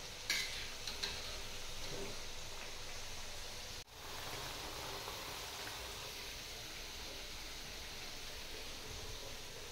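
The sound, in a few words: frying chakli in oil on a stove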